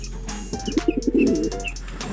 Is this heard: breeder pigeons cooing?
yes